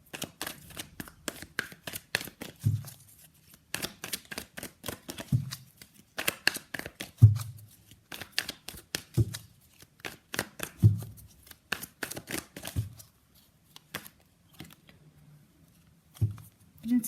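Tarot cards being shuffled by hand, with repeated riffles and soft slaps in irregular bursts. Close and quiet, with no talk.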